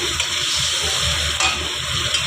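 Raw fish rubbed with salt and spices fries in a pan with a steady, close, even sizzle that holds for the whole stretch, with no talking.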